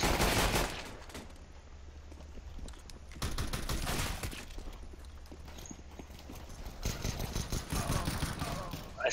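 Gunfire in the CS:GO video game: bursts of rapid shots in a few dense clusters near the start, middle and end, with quieter game ambience between them.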